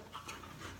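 A dog pants quickly and closely, short breathy rhythmic huffs with no talking over them.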